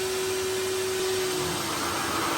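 A clear Vax 3 in 1 vacuum cleaner sucks up water with a steady, close whirring roar and a faint constant whine throughout, with no voices.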